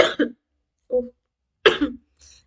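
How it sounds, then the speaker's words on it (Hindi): A man gives several short, sharp coughs with gaps of silence between them, close and fairly loud, the bursts harsh and throaty, alone with no speech around them. "एडिटिंग सीखनी पड़ेगी ये अपनी खांसी छुपाने के लिए"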